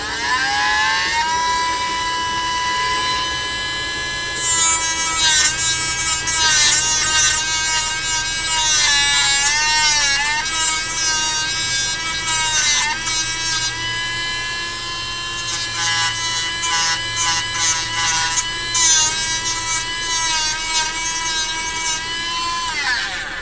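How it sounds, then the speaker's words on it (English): Dremel rotary tool notching a part for a Tamiya GF-01 heavy dump truck R/C model, a loud high whine that rises and falls in pitch as it bites into the material, close and continuous. "Grab my Dremel, and I'm basically just going to kind of Dremel away a notch similar to this"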